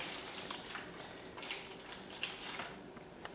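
A cup of water is poured into the bottom of a pan holding Sicilian-style stuffed artichokes, giving a soft, steady splashing and trickling at low volume with a few small splashes along the way.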